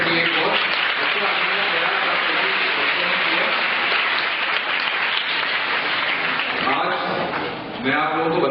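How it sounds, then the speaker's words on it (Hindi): School children in a hall at a Global Handwashing Day program applaud, a loud, continuous roar of many hands clapping that fills the room and only briefly dips near the end, with voices mixed into the crowd. "आप लोग अपने लिए जरूर ताली बजाएं"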